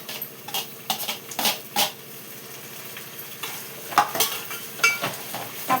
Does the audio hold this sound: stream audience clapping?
no